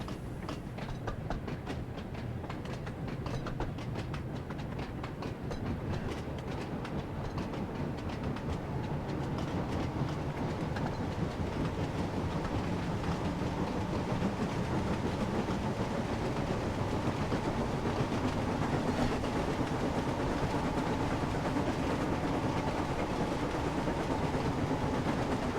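A train from the Thomas & Friends Wonders of Sodor game runs along the track with a continuous rumble and rhythmic clickety-clack of wheels, steady and close for the whole stretch, with no talking.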